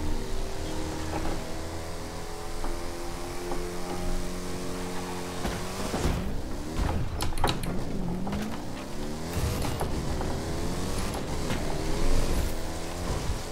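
A car driven on a rural road in The Crew 2 racing game, an engine droning and revving with rising and falling pitch sweeps, plus a burst of collision or skid noise midway.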